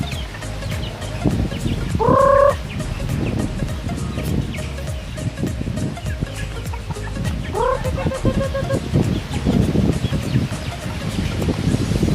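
Young chickens and chicks cluck and squawk nearby at feeding time, with two louder calls standing out over steady rustling and background noise; no one talks.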